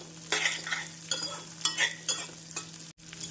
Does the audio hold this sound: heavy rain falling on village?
no